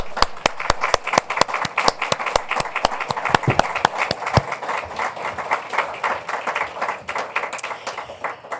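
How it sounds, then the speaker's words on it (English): An indoor audience claps steadily for several seconds at a health talk event, a dense, continuous round of applause heard close and fairly loud. "And we're going to give you a round of applause."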